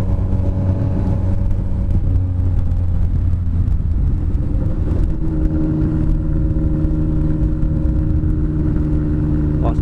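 A Honda CB 1000R motorcycle with its exhaust revving, the engine rumbling loudly and steadily close by, rising and settling through the whole stretch with no talking.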